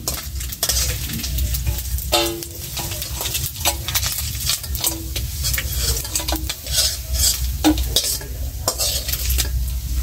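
Fish fries in hot oil in a pan, with a steady sizzle and frequent clattering scrapes of a utensil against metal, loud and close.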